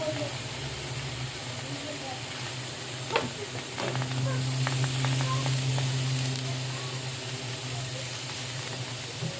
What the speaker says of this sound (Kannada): ಇದಕ್ಕೆ ಎಣ್ಣೆ ಹಾಕೊಂಡು ಚೆಂದಾಗಿ ಹುರ್ಕೋತೀನಿ ರೀ